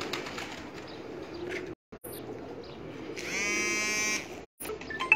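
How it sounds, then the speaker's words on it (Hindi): Pigeons of a prized rooftop flock coo softly in the background over steady outdoor ambience, with one clearer, rising coo partway through. "ये उनके घर के मोछे वाले कबूतर हैं"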